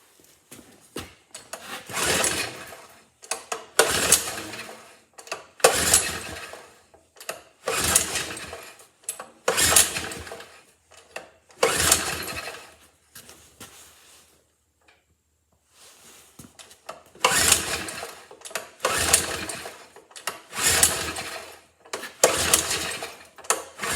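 The engine of a 1956 Wheel Horse RJ-35 tractor is cranked again and again without starting. It gives repeated rasping, scraping bursts a couple of seconds each with short gaps between, pauses once, then resumes the same cycle, loud and close.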